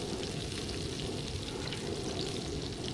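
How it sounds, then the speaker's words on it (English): Sliced mushrooms and green peppers frying in butter in a pan, a dense, even sizzle and crackle holding steady at moderate level with no voices. "Let that be sizzling on there."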